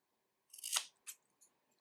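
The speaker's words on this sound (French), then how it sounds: "Je vais couper en bas aussi." Scissors snipping through macramé cord, one close crisp cut followed by two smaller snips, each short and sharp against near silence.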